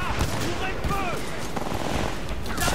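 Gunfire from a weapon in the video game Titanfall 2 crackles in dense rapid bursts, loud and continuous, under someone speaking.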